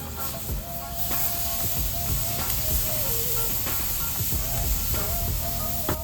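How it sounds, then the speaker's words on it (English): Marinated steak sizzles loudly on a hot grill, a dense steady hiss with scattered pops and crackles running the whole time, while no one speaks. "Let's grill our steak."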